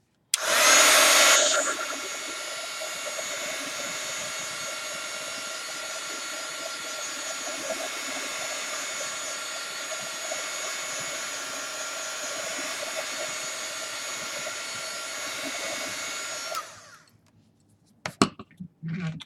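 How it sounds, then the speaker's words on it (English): A heat gun dries chipboard, giving a loud burst at switch-on that settles into a steady blowing whir for about fifteen seconds, then cuts off, followed by a few clicks and knocks. "And just dry it with a heat gun."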